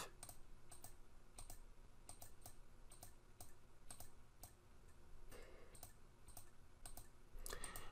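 Computer keyboard keys pressed while working in an Excel spreadsheet, including the F9 key, giving a run of light, irregular clicks and taps over a steady background hum, no voices.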